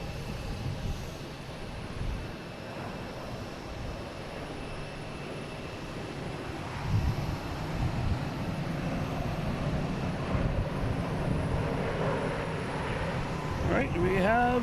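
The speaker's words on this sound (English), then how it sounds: "American Airlines coming in from Reagan" An American Airlines jet arrives at Boston Logan airport from Reagan, its engines making a steady, fairly loud roar that swells slightly as it nears.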